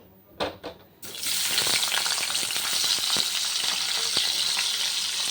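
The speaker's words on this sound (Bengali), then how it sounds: "এবার পনিরটা ভেজে নেব" Paneer cubes drop into hot oil after a couple of soft knocks, setting off a sudden, loud, continuous sizzle with scattered crackles and pops that carries on steadily.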